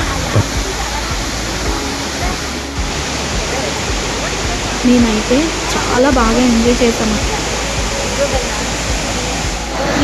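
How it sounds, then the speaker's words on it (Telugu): Taarabu Waterfalls roars in a steady, loud wash of rushing water close by, while a person talks over it. "ఇంత పెద్ద వాటర్ ఫాల్ని ఇంత దగ్గరగా చూడడం ఇదే ఫస్ట్ టైం."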